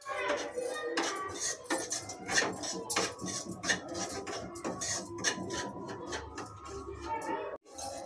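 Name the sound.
semolina roasting in ghee, stirred in a pan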